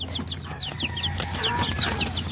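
Chickens raised in a rural province yard cluck and chirp in quick repeated calls, several birds close by over a steady low background hum.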